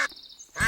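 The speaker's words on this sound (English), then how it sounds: "Mr. Boyd, I think your suitcase just quacked." A single short duck quack sounds from inside an animal carrier, clear and close, between moments of other sound.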